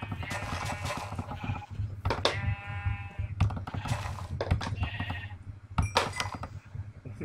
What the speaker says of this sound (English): It's a sheep.